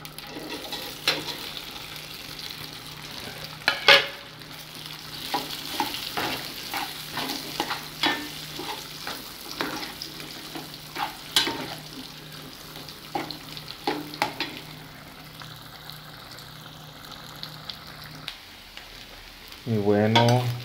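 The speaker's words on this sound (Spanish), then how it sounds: "Y bueno, freímos las salchichas, las freímos, que estén bien freídas." Sausages fry in a discada pan for a homemade Mexican beef and pork discada, with a steady sizzle broken by frequent sharp clinks and scrapes of stirring, close and fairly loud, ending with a brief low rumble.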